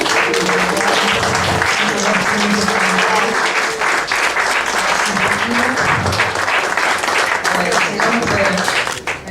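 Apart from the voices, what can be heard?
audience applause at a ceremony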